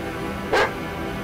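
A single short dog bark from the DOOM mod My House.WAD, a brief, moderately loud yip over a dim, constant game background.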